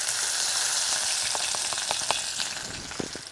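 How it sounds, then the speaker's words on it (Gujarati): Curry leaves and red chili pieces hit hot oil and sizzle steadily, with a dense frying crackle and scattered sharper pops and spits as tempering for a Gujarati sweet corn chevdo begins. "તેલ ગરમ થઈ ગયું છે ને સૌથી પહેલાં નાખશું આપણે મીઠો લીમડો. હવે નાખશું આપણે લાલ મરચાંની કટકી."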